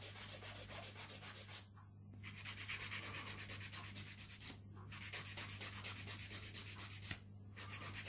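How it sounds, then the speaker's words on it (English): A file scrapes back and forth over a thin nail wrap product in steady rhythmic strokes, with three brief pauses, close and fairly quiet against a constant low hum. "Basically, you can just file it down."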